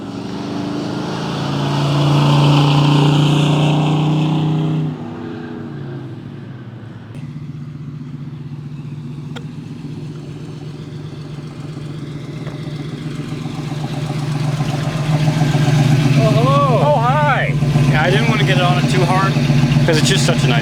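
1969 Mustang Boss 302 engine rumbles at close range, swelling as it revs and then settling into a steady drone, with a person talking over much of it.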